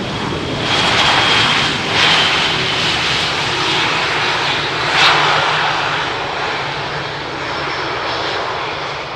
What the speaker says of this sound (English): This Air Arabia Airbus exiting at the first exit. Was coming in from Tangier.